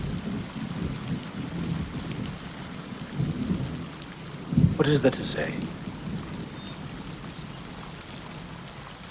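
Heavy rain falls steadily while thunder rumbles low and builds to a loud crack near the middle, then fades. A voice speaks briefly over the storm.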